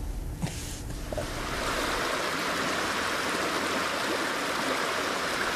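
The Bistrot river at Victoriaville rushes past in a steady broadband wash of flowing water, faint at first and then settling into a constant, even roar with no voices.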